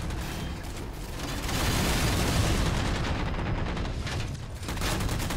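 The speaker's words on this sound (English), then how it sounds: "They're all shooting me from this side here." Dense, continuous gunfire and explosions from a Halo 4 multiplayer capture-the-flag match fill the clip, a steady roar of overlapping shots and blasts with no clear breaks.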